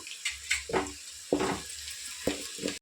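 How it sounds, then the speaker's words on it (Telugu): Whole biryani spices and cashews frying in hot oil, a steady close sizzle with a few louder crackling bursts as they are stirred. "జీడిపప్పు కూడా వేస్తున్నాను అవి కూడా ఫ్రై చేసుకున్నాము"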